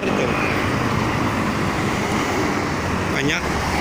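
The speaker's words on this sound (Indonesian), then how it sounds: "Ini di belakang saya mobil-mobil besar tuh" Large vehicles roll along a toll highway in a steady, broad traffic roar, close and loud throughout, with a brief passing whine near the end.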